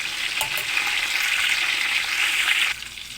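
Chopped onions with cloves, cinnamon and cardamom hitting hot ghee for biryani, a loud continuous sizzle with a few stirring knocks, fading slightly at the end.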